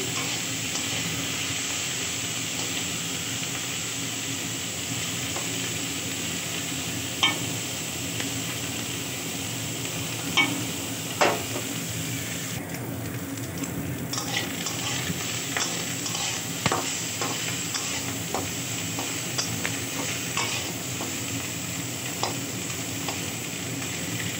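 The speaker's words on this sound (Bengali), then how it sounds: "এই মাছটাও এখন হয়ে গেছে এক সাইড, উল্টে পাল্টে নিচ্ছি।" Pieces of fish and prawns fry in hot oil in a pan, a constant close sizzle and hiss with occasional scrapes and taps as the pieces are stirred and turned.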